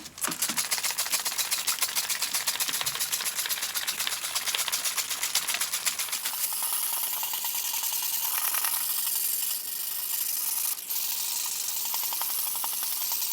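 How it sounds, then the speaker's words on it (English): A yellowed car headlight is hand wet-sanded with 1000 grit wet and dry paper, giving a rapid, rhythmic rasping close up that keeps going steadily and then turns into a smoother, hissier scrubbing partway through. "I'm going to go on to the 1000 wet and dry and get it ready for lacquer."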